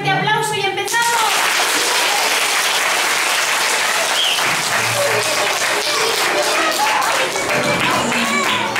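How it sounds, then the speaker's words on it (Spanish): Loud, sustained applause from a school play audience fills the room, steady clapping with some children's voices mixed in before the performance of Snow White begins. "Les damos un fuerte aplauso y empezamos."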